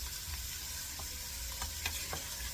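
Onions sauté in a soup pot with a faint, steady sizzle and a few light scraping stirs, quiet and close with no talking.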